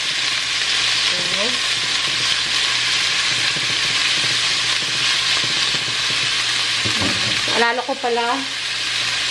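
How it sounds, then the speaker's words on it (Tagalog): Food browning in oil in a frying pan, a loud continuous crackling sizzle close by, with brief speech and a couple of clinks over the frying. "Mag-brown muna siya."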